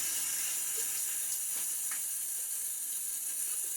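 A shaving razor is rinsed under a running tap, a steady, soft hiss of flowing water with faint splashes, no talking.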